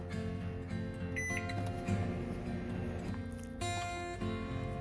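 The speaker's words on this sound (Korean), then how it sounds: "실리콘 용기에 넣어 전자레인지 7분 익힙니다." Microwave oven running while cooking cake batter of cocoa powder, salt, allulose, water and vanilla in a silicone container, a steady low hum with layered tonal whine and a brief shift in pitch near the end.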